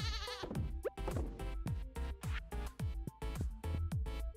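Goats bleat repeatedly in a close, loud series of wavering cries, one after another with short gaps.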